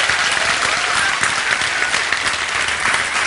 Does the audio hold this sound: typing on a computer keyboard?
no